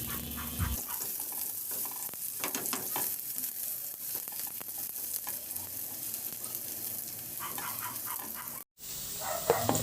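Chopped garlic sautés in hot cooking oil for a squid dish, giving a continuous close sizzle with occasional stirring clicks and scrapes, briefly cutting out near the end.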